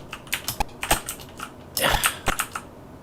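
Keys on a Sinclair ZX Spectrum keyboard are pressed in an uneven run of close, clicky taps, some in quick bursts, with no talk.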